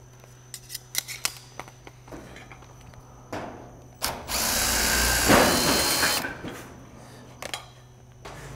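A power drill drives a 65mm screw through metal barge capping flashing on Klip-Lok roofing into timber, a sustained loud whirring burst of about two seconds after scattered clicks and taps of handling.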